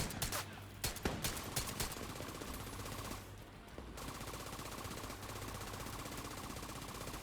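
Gunfire in the video game The Division 2 includes sharp shots and a rapid burst early, then gives way to a fainter, steady rattle of firing under game ambience.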